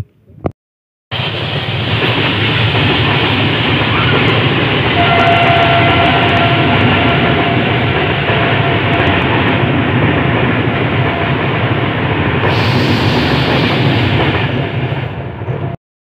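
A train rushes past near a forest clearing, a loud steady roar of wheels and rail noise that holds for about fifteen seconds before cutting off abruptly.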